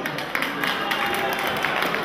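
Audience applause for a principal treasurer at an association gathering: a steady, dense patter of many hands clapping throughout, moderately loud and continuous with no break.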